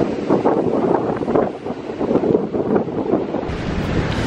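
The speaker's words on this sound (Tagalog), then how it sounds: "dahil nga sa sobrang lakas ng alon, nalakas din ng hangin" Strong wind buffets the microphone over a constant roar of heavy surf at a beach resort in Infanta, Quezon, a steady, dense rush without pauses and with no voices.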